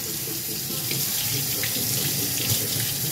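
Tap water runs steadily into a sink while a butchered quail is rinsed whole, a constant splashing hiss throughout.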